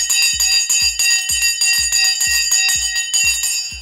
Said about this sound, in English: We've rung the Sensei bell.